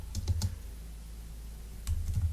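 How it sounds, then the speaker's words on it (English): Code for a timer is typed on a computer keyboard in the Processing environment, giving quick bursts of close, crisp key clicks, a short run, a pause, then another run, with no talk. "I'll move my cursor so we can see what I'm typing."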